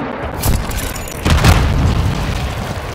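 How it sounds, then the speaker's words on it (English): A cruise missile strike in the video game Warzone lands as a deep, loud boom, with one blast early and a heavier rumbling impact that rolls on for over a second. "Friendly cruise missile approaching target."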